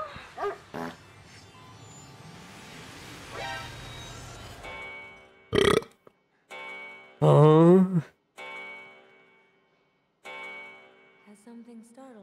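Dog noises in the horror video game The Evil Within: a few short, loud, barking or whining bursts separated by near silence, with quieter tonal game sounds and ticking between them.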